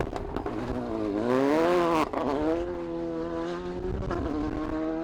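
A VW Polo R5 rally car powers along a British Rally Championship stage at the Jim Clark Rally. Its engine revs high and climbs through the gears, then drops with a gearshift, loud and close.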